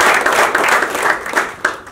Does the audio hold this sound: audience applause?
yes